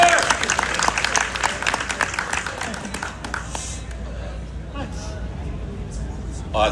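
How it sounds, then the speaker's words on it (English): An audience at a live Sonic event claps in a burst of applause that fades over several seconds, with talking over and after it. "round of applause, by the way, for the question."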